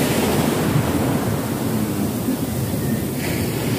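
Sea waves washing onto a warm sandy beach, a continuous broad hiss of surf close by with some wind noise on the microphone.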